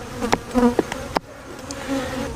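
Honey bees buzz close by near an open hive during a queen inspection after mite treatment, a steady insect drone broken by a few sharp knocks and clicks, loud at first and then settling to a softer hum.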